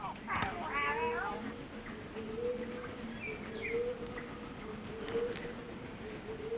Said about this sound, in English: Palm cockatoos defend their precious home from envious neighbors by displays, calls, and by tapping on a hollow tree stump.